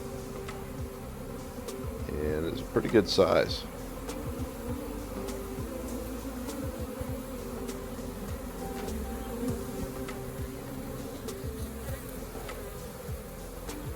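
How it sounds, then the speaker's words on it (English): A swarm of honeybees settling into an apple tree outdoors gives a steady, close insect drone throughout, swelling briefly loud as bees pass near; someone speaks briefly over it. "So today we've got a swarm. These bees are landing in my apple tree over here."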